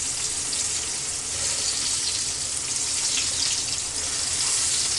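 Fried green tomatoes dredged in flour sizzle steadily in hot grease, a dense, continuous crackling hiss that stays even and close throughout, with no talking.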